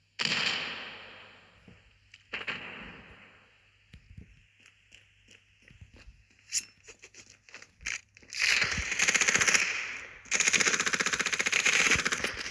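Bursts of P90 submachine gun fire in the Standoff 2 mobile shooter, short crackling volleys building to two sustained loud rattling bursts near the end, after quieter scattered clicks and movement sounds.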